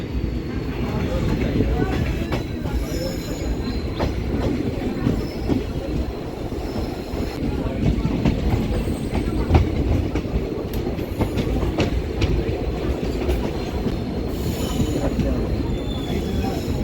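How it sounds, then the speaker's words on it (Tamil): A diesel-locomotive passenger train near Manamadurai Junction, South India, rolls along steadily with rumbling wheels and rhythmic rail clatter, heard from inside, with occasional squeals and faint voices in the background. "ஆனால் ஸ்டில் வந்து டீசல் லோக்கோ தான் வந்து ஆப்ரேட் பண்ணுறாங்க"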